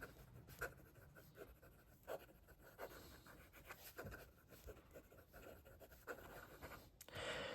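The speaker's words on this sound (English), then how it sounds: "Fast writing." A PenBBS 556 fountain pen moves quickly across paper, giving faint close scratchy strokes in an irregular rapid rhythm.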